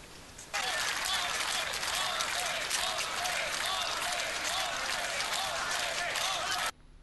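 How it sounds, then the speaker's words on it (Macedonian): A large crowd gives sustained, dense applause and ovations for generals Gotovina, Markač and Čermak at Croatia's Operation Storm anniversary celebration, steady and loud from start to finish. "Аплаузот и овациите ги зачуваа само за генералите Готовина, Маркач и Чермак"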